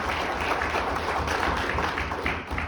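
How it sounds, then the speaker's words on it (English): Audience applause at a ham radio convention, a dense, steady wash of many hands clapping together that holds evenly throughout and dips only slightly near the end. "give Everton a big round of applause"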